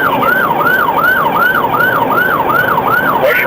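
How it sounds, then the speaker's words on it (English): A police car siren wails during a high-speed pursuit, its tone sweeping up and down in a fast, regular cycle about twice a second, loud and close over a faint rush of traffic. "initiate a pursuit with lights and sirens blazing"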